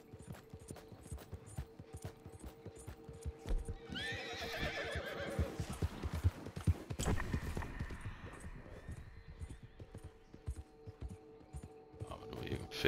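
A horse in Red Dead Redemption 2 whinnies in a long, rising-and-falling call mid-clip, while its hooves keep up a steady clip-clop rhythm throughout, close and moderately loud.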